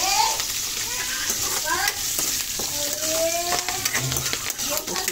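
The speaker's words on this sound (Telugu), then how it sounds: "చూస్తున్నారు కదా పోపు ఎలా వేసాను" Curry leaves tempering in hot oil for a semiya breakfast dish, a continuous close sizzle with crackling pops and occasional stirring scrapes, no talk over it.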